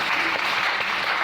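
Church congregation applauding, a dense, steady wash of many hands clapping together for a brief moment, filling the room.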